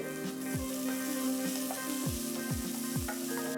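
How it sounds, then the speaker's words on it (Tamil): Steady hot-oil sizzle with spatula scrapes every second or so as shallots, garlic and dried chillies sauté in a pan, close and continuous, no talking. "இதெல்லாம் போட்டு நல்லா வதக்கணும்"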